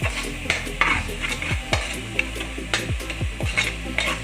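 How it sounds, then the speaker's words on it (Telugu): Masala frying in oil in a pan for kodi pulusu, a close sizzle broken by repeated scraping stirs and light clinks of a spatula against the pan, no talk. "సో ఇలా బాగా పచ్చివాసన పోయే వరకు, ఆయిల్ అంతా పైకి వచ్చే వరకు వేయించుకోవాలి"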